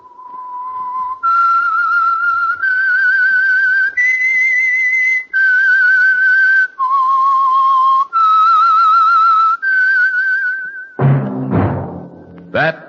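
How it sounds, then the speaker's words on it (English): A whistled theme tune for The Whistler radio program, a clear solo melody of sustained notes stepping up and down in a steady phrase, followed by a brief burst of orchestral music. "That whistle is your signal for the Signal Oil program, The Whistler."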